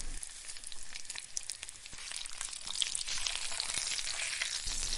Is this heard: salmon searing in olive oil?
yes